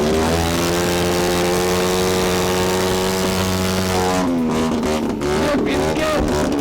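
A motorcycle engine runs loud and close at a steady idle, then its pitch lifts as it revs up near the end amid the noise of an outdoor Independence Day celebration crowd.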